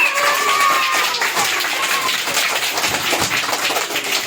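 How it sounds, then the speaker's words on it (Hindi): Children clap for a classmate who has just managed a task, a loud, dense and continuous patter with a faint voice briefly heard at the start. "अरे वाह, ताली बजाओ"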